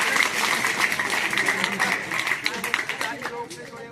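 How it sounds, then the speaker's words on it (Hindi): Children clap for a health department team, a dense burst of applause from a group that slowly thins over a few seconds. "सभी बच्चे हमारे स्वास्थ्य विभाग की टीम को क्या करेंगे,"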